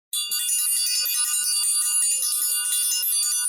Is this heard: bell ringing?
yes